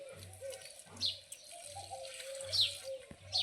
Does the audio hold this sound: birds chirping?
yes